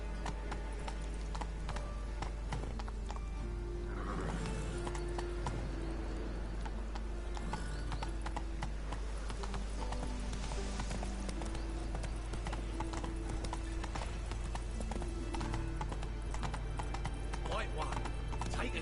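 A horse galloping in the video game The Witcher 3, steady rapid hoofbeats running throughout under a constant bed of game music and ambience, with no pauses.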